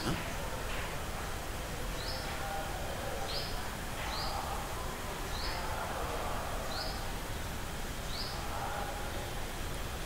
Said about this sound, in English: When you're listening to these birds, then you're still hearing the other sounds